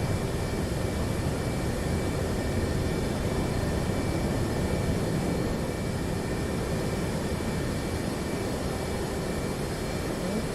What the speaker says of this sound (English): those A-10s take forever to get down the runway